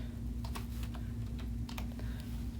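Keys on a calculator keypad are pressed in a quick irregular series of light clicks, close and fairly soft over a steady low hum; no speech.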